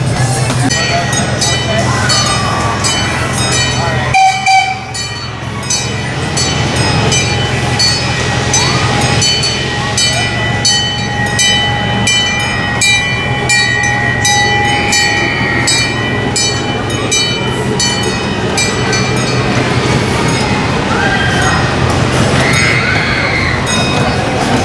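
A small amusement park train ride rumbles steadily along with a constant mechanical drone and faint clatter, while people chatter in the background throughout.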